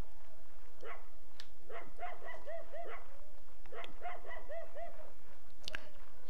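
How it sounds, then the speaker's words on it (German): Dogs barking in the medieval game Mount & Blade Warband, in bursts of quick, bright yelps around the second and fourth seconds, moderately loud over a low steady ambient hum, with no talking. "Die Hunde bellen."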